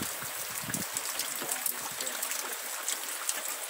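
Water runs in a small stream after light rain in the Sertão das Marrecas backcountry of Sobral, Ceará, a continuous broadband rushing with a few low gurgles, fairly close and steady, without talk.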